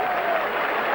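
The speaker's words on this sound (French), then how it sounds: "Et madame applaudit." A short burst of steady clapping from a small audience at the 1984 Roland Garros semifinal tennis match, continuous and moderately loud with no voices on top.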